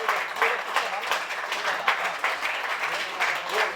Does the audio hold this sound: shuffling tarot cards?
no